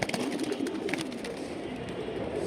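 Hammer-line pigeons coo continuously over dense background noise, their calls close and steady with no pauses and no speech.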